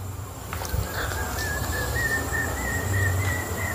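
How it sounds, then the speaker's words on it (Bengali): Birds call across a quiet forest in West Medinipur in late afternoon, with a steady whistling tone and soft cooing notes rising over a constant low background hum, no people talking. "চারিদিকটা পুরো শান্ত নিরিবিলি আর পাখি ডাকছে।"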